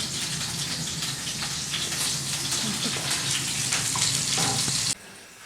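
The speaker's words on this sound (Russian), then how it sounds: "Жариться, пахне. Пахне на всю кухню." Food fries in a home kitchen pan with a steady hiss and crackle that runs for about five seconds, then cuts off abruptly, with faint voices in the background.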